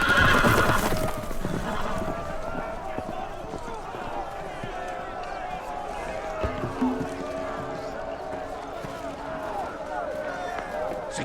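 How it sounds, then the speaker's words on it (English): Loose horses whinny loudly in a Game of Thrones video game, then hooves clatter in a rapid gallop under continuing scene noise, with voices speaking over it. "The horses! They're loose!"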